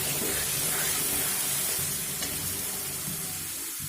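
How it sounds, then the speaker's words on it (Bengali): Spices seasoned with chili powder and a splash of water fry down in a pan for a vegetarian dish, giving a steady close sizzle and hiss that carries on unbroken throughout. "দেখুন, মশলা কষিয়ে নিয়েছি"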